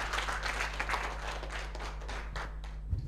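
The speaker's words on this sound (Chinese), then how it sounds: "给他掌声好吗" Audience clapping during a Buddhist talk, a brief burst of dense applause close by over a steady low hum, fading toward the end.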